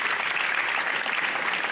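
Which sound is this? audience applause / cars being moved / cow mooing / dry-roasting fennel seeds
audience applause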